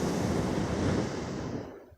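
Ocean waves surge and wash continuously close by, a broad loud roar that slowly fades at the end.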